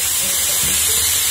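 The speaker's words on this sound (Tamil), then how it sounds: "குக்கர் மூடி நல்லா ஆவி வர ஆரம்பிச்சிருச்சு" Steady, loud hiss of steam escaping from a pressure cooker lid as sakkarai pongal cooks, a continuous close broadband rush with a low rumble underneath, no voices.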